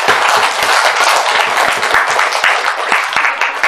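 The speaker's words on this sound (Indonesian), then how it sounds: "Kalau begitu kita tepuk tangan dulu." A small group claps together in steady, lively applause lasting a few seconds, with no talking.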